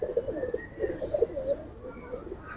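Pigeons coo softly in a loft, a few low rolling calls repeating close by over a quiet background, with faint chirps behind.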